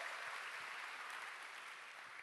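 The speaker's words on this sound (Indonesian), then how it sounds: "Tepuk tangan bagi dia, saudaraku." A congregation applauds during a church service, a steady wash of many hands clapping that holds at an even level throughout, fairly distant and soft, with no voices over it.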